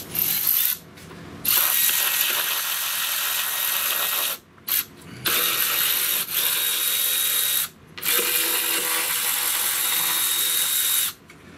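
A ratchet wrench with a 10 mm socket removes ignition coils on a 2007 Chrysler Pacifica, giving long runs of fast, loud close clicking broken by a few short pauses.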